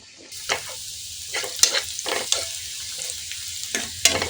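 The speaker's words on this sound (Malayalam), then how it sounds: "ഉള്ളി അരിഞ്ഞ് മൂപ്പിക്കാം" Sizzling in a pan with intermittent stirring and scraping, a handful of sharp bursts over a quiet hiss, close by.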